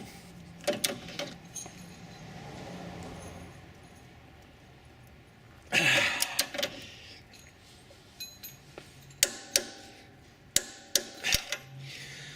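A torque wrench set to 85 pound-feet tightens a front sway bar link on a Land Rover LR4, giving close ratcheting and metallic clinks, then a run of sharp, separate clicks near the end.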